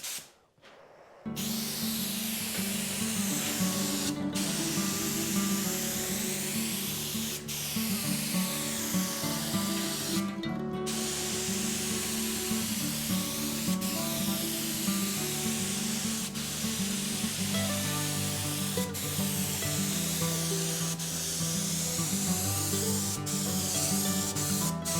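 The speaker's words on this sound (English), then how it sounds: "I feel like I've used a proper spray gun more in the last 3 or 4 weeks than I have my entire life." A spray gun lays paint onto an old car fender from a 65-year-old vehicle, a steady close hiss that runs almost unbroken, with brief pauses where the trigger is released.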